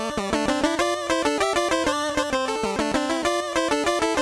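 NES-style chiptune from Venture Kid: two square-wave voices play a fast dueling guitar-like solo in parallel thirds, with rapid steady note runs over a bass line, loud and continuous throughout with no talking.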